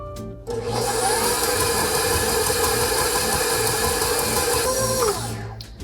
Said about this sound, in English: Mix it on medium speed until it's smooth and elastic